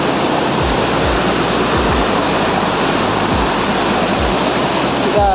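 Aapkhol Waterfall in Bargarh roars with a constant, loud rush of water, and faint rhythmic ticking and thuds sit beneath the steady flow.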